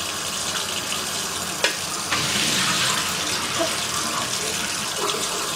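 Tap water running steadily into a bowl as sushi rice is rinsed at a kitchen sink, a continuous gushing wash with a couple of brief splashes, fairly close and alone.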